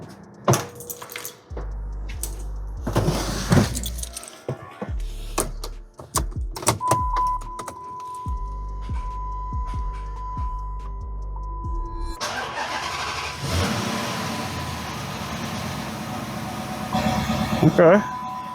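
A car engine is started after its coil packs were replaced: keys jangle and clicks sound, then the starter cranks and the engine catches into a steady running idle, with a person talking nearby.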